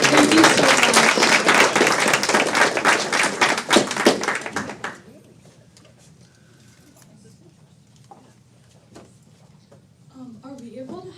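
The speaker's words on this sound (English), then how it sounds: "Can we have one more applause for Mr. Schmeichel and Mr. Mueller?" Applause from a Rotary club meeting audience rings out loud and dense for several seconds, then drops off abruptly, leaving a quiet room with faint scattered sounds and a voice at the end.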